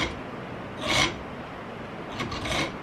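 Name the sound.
triangular file deepening notches in a bolt head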